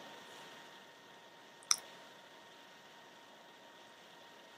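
A single sharp computer mouse click on an on-screen button, faint and brief, standing alone over a quiet background hum.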